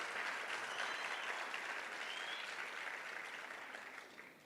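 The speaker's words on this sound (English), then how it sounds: "I think let's give them a big round of applause, guys. A huge round of applause" A big crowd applauding loudly and continuously, gradually fading toward the end.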